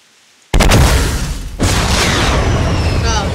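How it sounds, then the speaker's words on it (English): Rocket boom in the video game Fortnite, a sudden loud blast after near silence followed by a sustained roaring rush as the rocket accelerates, with a second surge partway through. "It accelerated, the rocket accelerated"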